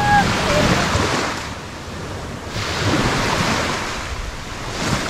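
Ocean surf breaking on Teluk Batik beach in Perak, Malaysia, a steady broadband wash of waves swelling and easing in slow surges, with some wind rumble on the microphone and no voices.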